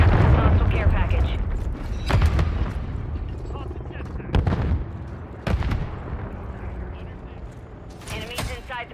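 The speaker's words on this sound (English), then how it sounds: "Hostiles launched a cruise missile." Booming blasts and impacts from a cruise missile strike in Modern Warfare 3, several sharp heavy hits spaced a second or two apart over rumbling, with game voice announcements underneath.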